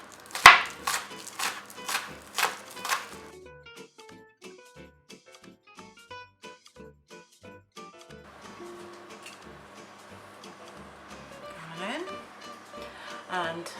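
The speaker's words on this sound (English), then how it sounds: "chopping very finely the spring onion and the pepper" Spring onion and pepper are chopped finely with a knife on a board: a few loud sharp cuts up front, then a run of quicker, lighter taps, with a voice talking over the later part.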